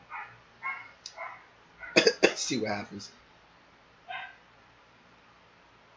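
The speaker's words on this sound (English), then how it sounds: "Okay, so I have a dog in the background" A pet dog barks a few times in the background at home, faint and intermittent between quiet stretches, with someone speaking briefly over it.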